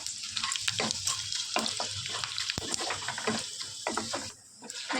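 Dried red chilli, bay leaf and cumin seeds frying in hot oil in a kadai, a close crackling sizzle broken by repeated sharp spatula scrapes and taps, fading briefly near the end.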